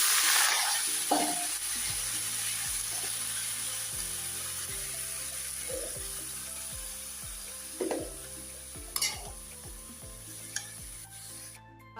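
Spiced curry with salt, cumin, turmeric, coriander powder and water being stir-fried in a pan: a steady low sizzle with occasional spatula scrapes and light clinks, close and alone with no talk.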